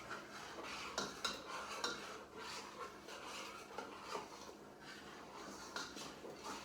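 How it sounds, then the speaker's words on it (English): A play dough mixture is stirred in a pot on the stove over medium heat, giving faint, soft scraping strokes that repeat unevenly against the pot. "And I'm going to start stirring."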